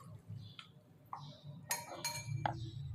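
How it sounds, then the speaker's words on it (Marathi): Utensils clink against glass and dishware as tomato chutney is moved into a bowl, with a few sharp, bright clinks standing out over a low background hum. "आता ही टोमॅटोची चटणी मी एका बाउलमध्ये काढून घेणार आहे"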